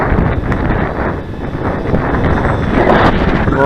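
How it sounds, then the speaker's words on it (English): Strong wind buffets the microphone outdoors on a very windy day at a model wing flying field, giving a loud, continuous rumbling roar that swells slightly toward the end. "Oh, you can feel there's wind here."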